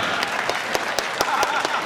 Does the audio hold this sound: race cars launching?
no